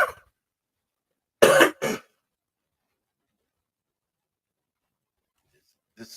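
Someone with a cold, whose colds set off asthma, coughs in a quick harsh double burst, close and loud in an otherwise silent room.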